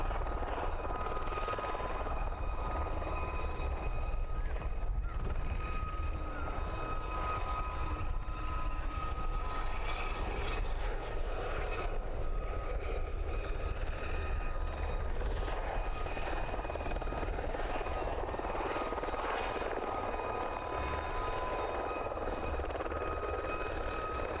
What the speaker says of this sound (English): This particular aircraft is an ex-Empire Test Pilot School from Boscombe Down, an HT2.